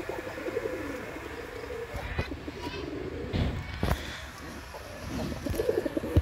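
Farm-kept mukhi and racer pigeons coo in low, rolling calls, with wing flutters, knocks and movement sounds nearby.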